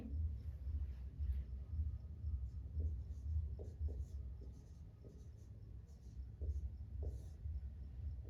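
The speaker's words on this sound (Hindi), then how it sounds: "श्यामपट्ट कौशल में हम यहाँ पर लिखेंगे" Chalk scratching and tapping across a classroom blackboard as a teacher sets out a lesson layout, with short strokes over a low room rumble.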